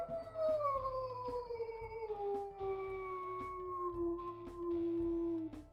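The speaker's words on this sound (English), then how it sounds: "We'll also go ahead, we'll listen to her howls here." A wolf in the video game WolfQuest gives one long, clear howl that slowly glides downward, heard alone over faint background noise.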